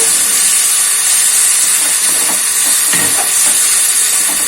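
A pump running in a home kitchen gives a steady, loud broadband hiss that fills the whole stretch without pause, with a few faint clinks underneath.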